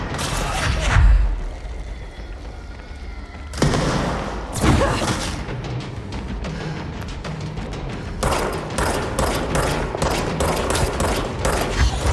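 Weapon fire in the action game Control comes in rapid bursts of shots with booming impacts, sporadic at first, then dense repeated volleys toward the end, with no talking over it.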